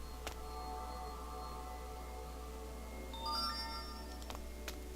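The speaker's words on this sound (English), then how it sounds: "That's a text message that I'll be checking later." A text message notification chimes in the video game Keepsake, a short bright electronic tone rising over a steady low game hum and faint background ambience, fairly quiet and alone.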